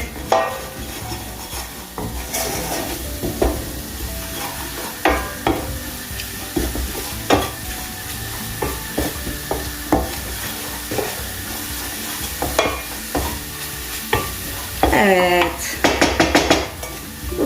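Ingredients for a pizza sauce sautéing in a pan, with steady stirring scrapes, utensil clinks against the metal and a soft sizzle running underneath, plus a few sharper clatters and a brief rattling burst toward the end.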